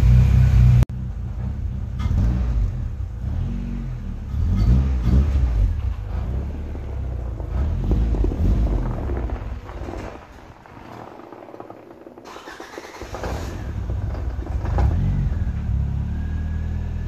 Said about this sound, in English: So I'm just gonna back it out right now